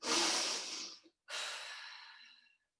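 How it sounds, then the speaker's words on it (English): During a lower-body workout, a person takes one deep breath: a loud, close inhale, a brief pause, then a long exhale that slowly fades. "Take a deep breath."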